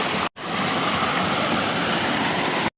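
Cold rushing stream water pours as a loud, steady broadband roar close by, cutting out briefly near the start and again at the end.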